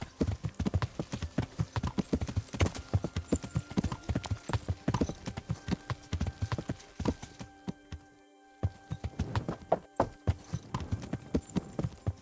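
Rapid, steady clip-clop of horse hooves at a trot in the video game Kingdom Come: Deliverance, loud and close, with a brief pause near the end before the hoofbeats resume.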